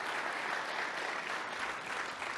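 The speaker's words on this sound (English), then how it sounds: "So round of applause for Matt Blackmer and our team for putting All Access together." A large audience at a live mortgage industry event applauds a team, a continuous wash of many hands clapping at once, even and sustained, heard from a distance.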